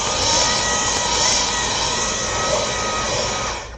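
A heavy, loud vacuum cleaner runs during rug shaving, a constant close roaring whine with a steady tone that holds throughout and fades slightly at the end.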